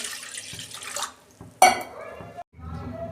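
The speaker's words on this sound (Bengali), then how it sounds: "এই যে কড়াই জল দিচ্ছি" Water splashes into a kadai (wok) on the stove for a squash fry with slit green chillies and onion: a short gush of pouring, then a bright metallic clatter and a brief watery trickle, close and fairly quiet.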